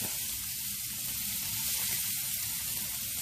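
Steady, bright sizzle of room-temperature scallops searing in a hot pan, a constant crackling hiss heard close up with no talking.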